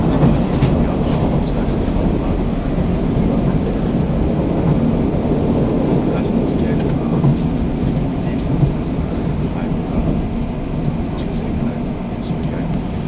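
Nishitetsu 6000 series express train running, a steady, loud, low rumble of wheels and motors that holds evenly throughout, with no voices.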